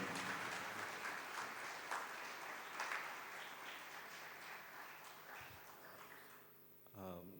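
Audience applause welcoming a bishop at a Thanksgiving Holy Mass, a steady wash of clapping that sounds fairly distant and slowly thins out before a voice begins right at the end.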